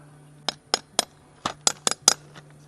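Sharp glass clinks, about eight distinct strikes in an uneven rhythm, close by and fairly clear over a low steady hum.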